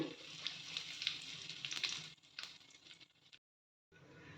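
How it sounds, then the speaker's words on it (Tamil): Mustard seeds, urad dal and broken dried red chillies fry in oil for raw mango rice, a close crackling sizzle with scattered pops that thins out and drops to silence briefly near the end. "கடுகு நல்லா பொறிஞ்சிருச்சு மிளகாய் வத்தல் ரெண்டு கிள்ளி போட்டுக்கலாம்"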